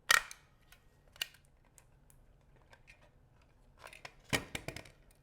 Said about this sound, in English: Regular old paper stapler.